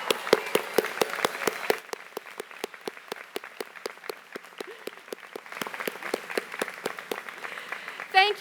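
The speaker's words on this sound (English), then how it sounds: "thank you so much for giving these folks a well-deserved round of applause" Steady applause from family and friends standing at a law school commencement ceremony, rapid dense clapping filling the hall for several seconds, with a brief dip and then renewed claps before fading.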